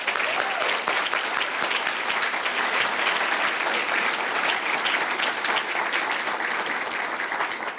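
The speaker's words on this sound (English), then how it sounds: "Let's give one more round of applause to the students." Sustained audience applause for students inducted into Phi Beta Kappa, dense steady clapping from a full room that continues evenly before easing slightly at the end.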